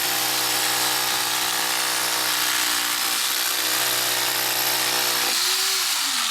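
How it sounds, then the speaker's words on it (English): A jackhammer breaks up tarmac 4 to 6 inches thick along a cut line for garden drainage work, heard as a loud, continuous mechanical buzzing hammer close by, briefly easing and dropping in pitch near the end. "Now I'm just going around it with the jack."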